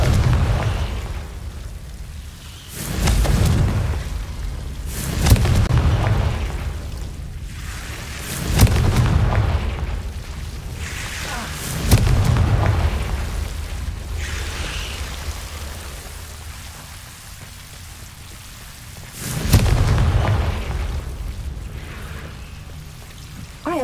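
Confringo explosive spell blasts in the Hogwarts Legacy video game, a series of heavy booming bursts spaced a few seconds apart, each decaying into a rumbling, crackling wash like debris and rain.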